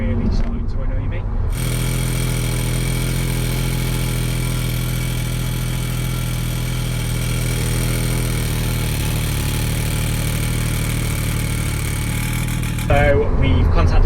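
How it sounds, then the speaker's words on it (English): A BMW M140i idles with a loose exhaust back box, giving a steady, close, buzzing engine drone with a metallic rattling edge that runs without pause, while a voice talks briefly at the start and end. "I'm going to put a video in here so you can hear just how bad the rattle is"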